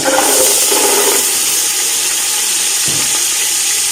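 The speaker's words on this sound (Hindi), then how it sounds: "अभी हम मटर डाल रहे हैं। मटर को करते हैं अच्छी तरह फ्राई।" Green peas frying in hot ghee in a pan for chicken matar pulao, a loud steady hissing sizzle with faint stirring scrapes, no voices.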